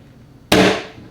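A single sharp, loud snap of a staple gun fires once into fabric on a trunk, close by, and then decays quickly into quiet.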